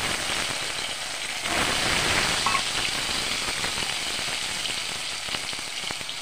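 Cut potatoes fry in hot oil with a steady, dense sizzle and crackle that swells briefly, close and continuous, with no talking.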